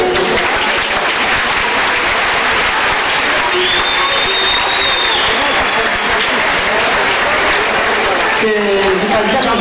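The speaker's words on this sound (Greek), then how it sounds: "Από εσάς το μόνο που ζητούμε είναι το χειροκρότημά σας." Loud, sustained audience applause for a traditional Greek dance group at a cultural performance, dense clapping filling the whole stretch with crowd noise and voices mixed in.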